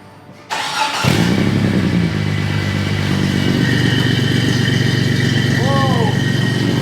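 An off-road 6x6 vehicle's engine cranks and fires up abruptly, then settles into a loud, steady rumbling idle through a big exhaust close by, with a brief voice near the end.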